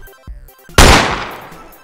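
An AK rifle in the CS:GO mobile video game fires a single loud, sharp shot with a ringing decay, preceded by faint clicking game interface sounds.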